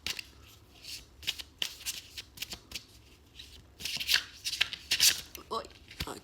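Tarot cards being shuffled by hand up close, repeated riffling and sliding bursts in an uneven rhythm, with a soft voice murmuring at times.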